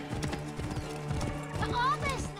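Horse hooves clop in a quick, uneven rhythm in Assassin's Creed Origins, close by, with game voices and a brief whinny-like cry layered over the hoofbeats.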